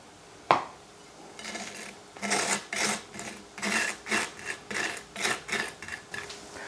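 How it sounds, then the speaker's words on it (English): A knife spreading butter on toast, opening with a sharp knock and then a run of rhythmic raspy scrapes, close and fairly quiet, with no speech. "Just butter the toast to start with."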